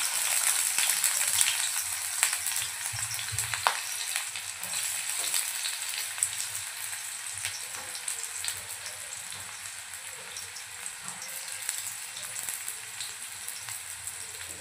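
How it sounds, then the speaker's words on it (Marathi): Chopped onion dropped into hot oil in a pan for dhaba-style sev bhaji, a loud, dense, steady sizzle and crackle close up that slowly settles, with faint stirring scrapes and no voices. "तर यात कांदा टाकूया।"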